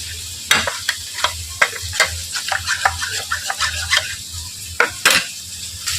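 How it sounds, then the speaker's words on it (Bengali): Ground black pepper and turmeric powder mixed with a little water in a pan, giving sharp spoon scrapes and clinks over a soft sizzle, irregular and close. "কালো মরিচের গুঁড়ো, হাফ চামচ হলুদ গুঁড়ো আর অল্প একটু জল দিয়ে এটা আমি মিক্স করে নিচ্ছি"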